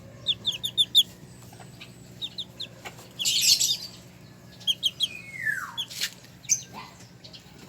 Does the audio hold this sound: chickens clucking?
yes